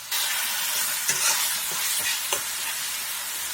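Jafane fish frying in a salted pan gives a steady, bright sizzle, close and fairly loud, broken by a few soft clacks of a spatula stirring.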